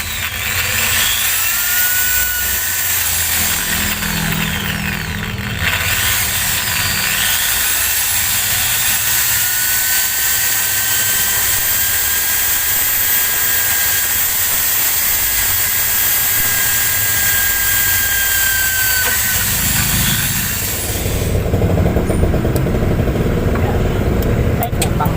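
A power tool drives a metal screw through metal during a cooling system upgrade on a Suzuki Multicab, giving a loud, continuous whirring drone with a steady whine for about twenty seconds before it changes near the end, with voices nearby.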